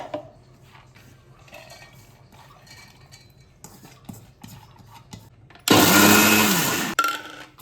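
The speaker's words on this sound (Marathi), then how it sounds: "आता हे पाणी काढून टाकणार आहे आणि ही डाळ वाटून घ्यायची आपल्याला मिक्सरवरती" Quiet kitchen clinks and shuffling, then a mixer grinder grinding soaked lentils for idli batter roars to life, grinding loudly for over a second before cutting out abruptly.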